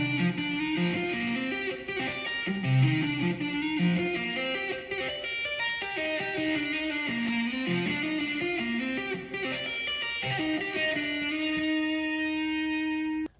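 Electric guitar plays the lead part from a song, a continuous melodic line of picked notes over a full band backing at a steady level that ends abruptly.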